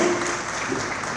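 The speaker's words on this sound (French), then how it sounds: "Pierre Omounio et Max sous vos applaudissements, mesdames et messieurs" Audience applause at the Festival Couleurs du Congo, its 16th edition, a dense, steady wash of clapping that holds at an even level for a moment without any voices.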